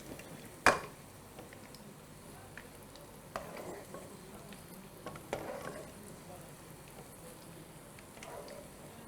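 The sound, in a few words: onions frying and being stirred in a kadhai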